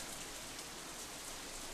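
Steady rain in the Katawa Shoujo video game patters evenly and continuously at a soft level, with no voices.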